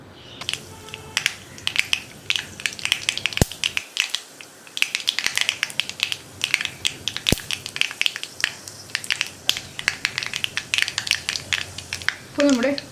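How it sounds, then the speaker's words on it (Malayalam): Mustard seeds crackle and pop densely in hot coconut oil for a snake gourd dal, a steady close-up sizzle of rapid sharp clicks that continues throughout with no pauses. "അപ്പോൾ നമ്മുടെ കടുക് പൊട്ടി കഴിയാറായിട്ടുണ്ട്."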